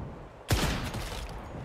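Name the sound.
enemy gunfire in the video game Once Human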